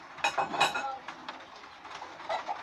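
A metal lid goes back onto a cooking pot with a couple of sharp clanks, followed by lighter faint clinks and rattles as it settles.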